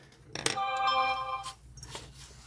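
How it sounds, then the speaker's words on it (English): A phone ringtone rings loudly indoors, a repeating bright melodic tone that swells for about a second and then fades, with faint room noise around it and no talk. "My other phone is so very, very loud."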